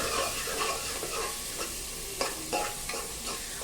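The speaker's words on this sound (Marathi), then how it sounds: "थोडीशी कोथिंबीर हे सगळं छान याच्यामध्ये परतून घ्यायचं आपल्याला हे सगळं याच्यामध्ये मी परतून घेते" Onion and coriander sauté in a pan for stuffed brinjal masala, giving a continuous close sizzle with a few brief stirring scrapes and no talk.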